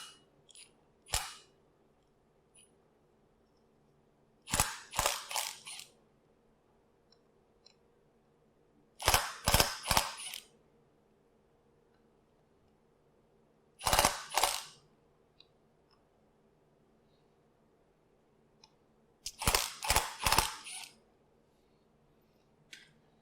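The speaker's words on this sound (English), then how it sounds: "an impact wrench set on low will make this nice and easy" An impact wrench set on low hammers at a crankshaft pulley bolt on a GM 3.6L SUV engine in five short, sharp bursts of rapid rattling, separated by several seconds of near silence.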